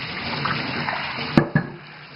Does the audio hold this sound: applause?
no